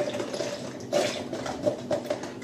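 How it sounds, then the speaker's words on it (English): Just over half a litre of milk pours from a jug into a pan, a steady, close liquid stream with a slight gurgle for a couple of seconds. "We're going to put in about 600 or so millilitres. Half a litre milk, just over half a litre."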